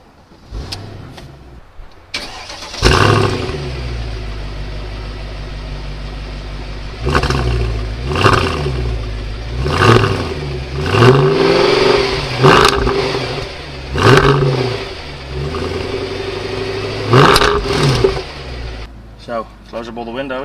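A 2007 Mercedes CL63 AMG is driven on the road, its engine swelling in repeated strong acceleration surges with quieter gaps between them, heard from inside the cabin while a person talks.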